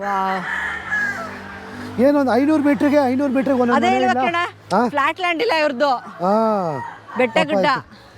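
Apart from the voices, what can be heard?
chickens and rooster crowing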